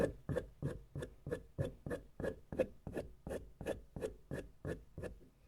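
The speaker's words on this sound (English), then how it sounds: "I still like to strop my hunting knives and my camping knives. So just to remove that burr." A hunting knife is stroked back and forth on a strop coated with yellow honing compound to remove the burr, about sixteen close, evenly spaced rasping strokes with no talking.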